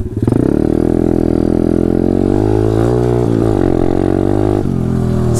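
A pit bike engine drones loudly up close while riding through rough terrain, holding a steady pitch that dips and recovers as it works over bumps and climbs.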